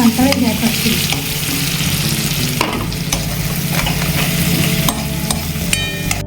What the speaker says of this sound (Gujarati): ડુંગળી બરાબર સંતળાઈ ગઈ છે